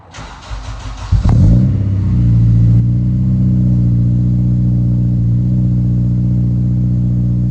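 A 2006 Acura RSX Type S engine starts with a brief crank, catches, flares in a quick rev, then settles into a loud, steady idle close by.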